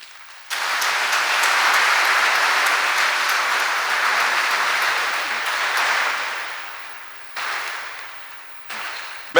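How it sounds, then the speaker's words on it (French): Audience at a diocesan confirmation ceremony applauding the newly confirmed, a dense sustained crowd of clapping that swells, eases, then flares again in short bursts near the end. "il faut les saluer, il faut les applaudir."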